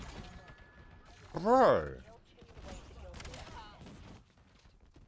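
Shotgun blasts in Black Ops 7 with the Bulldozer perk: one loud, booming shot stands out briefly, with quieter gunfire and game noise around it and someone talking over it.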